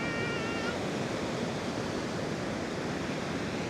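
Strong ocean surf at Da Nang beach roars in a continuous, loud wash of broadband noise with a little wind buffeting, no voices.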